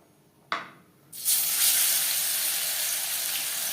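Fish dropped into hot mustard oil for deep frying on a high flame, a sharp splash followed by a loud, steady broadband sizzle that continues without any voices.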